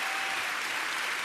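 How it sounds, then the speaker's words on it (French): Steady audience applause fills a concert hall during a 2012 televised show, a dense continuous patter of clapping with no voices over it. "On l'applaudit encore."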